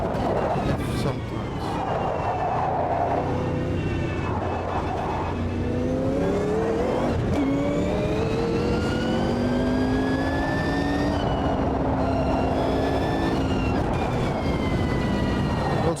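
A race car in Automobilista 2 revs hard through repeated rising engine sweeps, with abrupt pitch drops at each manual gear shift, loud and continuous from the cockpit.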